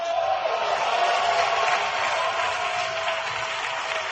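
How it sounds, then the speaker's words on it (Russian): A congregation applauds during a church sermon, a steady wash of clapping at moderate distance that holds evenly for about four seconds. "Дайте им аплодисменты."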